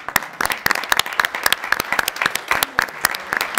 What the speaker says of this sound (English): So we'd like to give her a big round of applause.